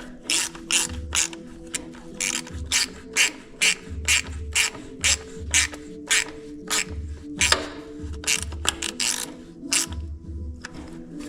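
A hand ratchet clicks in quick repeated strokes while tightening a hose fitting on a 1978 International Scout, a close series of sharp metallic pawl bursts in an uneven rhythm with short pauses.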